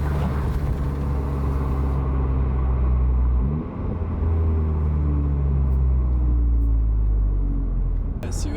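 A Volkswagen Golf R in race mode drones with a loud, steady low engine rumble from inside the cabin, the pitch shifting slightly midway as a voice talks over it.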